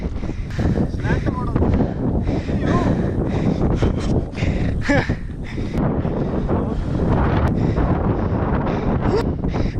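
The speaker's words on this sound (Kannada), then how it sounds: "ಓ ಸಖತ್ ಗಾಳಿ" Strong wind buffets the microphone on an open hilltop during a trek to Channarayana Durga fort, a constant loud roar across the whole stretch with voices faintly mixed in.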